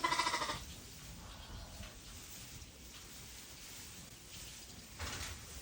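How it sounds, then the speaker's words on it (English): Sheep eating hay or straw on a farm bleat near the start and again toward the end, with quiet rustling and soft background noise between the calls. "here are the sheep eating the hay"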